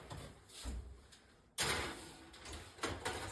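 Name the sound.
oven door opening to put cookies in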